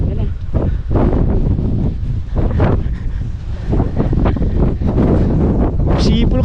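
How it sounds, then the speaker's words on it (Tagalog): Strong wind gusting across a microphone on Mt Timbac, rough buffeting roars rising and falling in bursts with a brief whistling tone near the end, loud and close. "Sipol kasi yung hangin eh."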